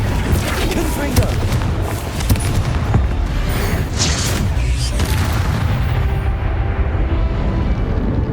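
Spell blasts in Hogwarts Legacy: dense, roaring booms with heavy low rumble fill the whole stretch, loud and continuous with no quiet breaks, and a voice comes through now and then under the din.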